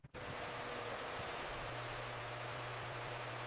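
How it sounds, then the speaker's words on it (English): Pink noise test signal for home theater calibration, a steady, even hiss holding constant for several seconds after a brief start, with a faint low hum underneath. "Pink noise first, movie later."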